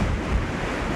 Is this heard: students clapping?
no